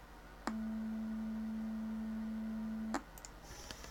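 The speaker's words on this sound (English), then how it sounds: "we've just generated a sine wave tone" A generated pure sine wave tone sounds as a single steady, clean, low-pitched note lasting about two and a half seconds, starting and stopping abruptly, alone over faint background hiss.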